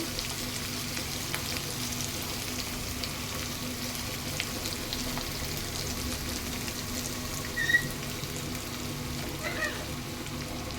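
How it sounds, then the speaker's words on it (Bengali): Ginger, garlic and cumin powder fry in a pan as a steady, soft sizzle that runs evenly throughout, with a couple of faint stirring scrapes near the end and no talking. "আদা রসুনটাও ভাজা ভাজা হয়ে গেছে, কাঁচা গন্ধটা চলে গেছে"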